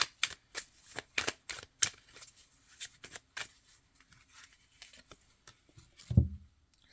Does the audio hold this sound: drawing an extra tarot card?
yes